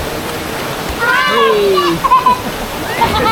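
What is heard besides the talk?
Bolinao Falls waterfall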